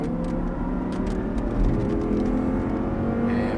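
An Audi R8 on a race track holds a steady, loud engine roar under throttle, a dense continuous drone with a faintly rising tone and no talk.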